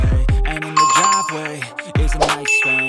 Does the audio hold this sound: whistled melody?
no